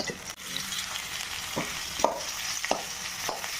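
Potato mixed with spices fries in a pan: a continuous close sizzle broken by several sharp scraping stirs of the spatula, with no talking.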